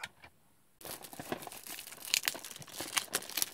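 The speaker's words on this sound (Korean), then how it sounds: "비닐로 이렇게 뜯는 거는 오랜만이네." Plastic wrapping being torn open on a pack of Turning Mecard W battle slap cards, a near, loud crinkling and ripping that runs continuously after a brief quiet start, with no talking.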